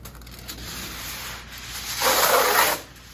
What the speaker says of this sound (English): we get a nice big piece of aluminum foil